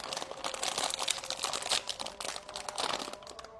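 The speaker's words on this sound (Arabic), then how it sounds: "افتح جاي كيس الشيبسي." A crinkly bag of potato chips is handled and torn open, giving dense close plastic crackling and crunching throughout with no talking.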